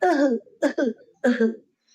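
A voice imitates an old man's cough: three raspy, throaty bursts in a row, each breaking into a short second hack, close to the listener.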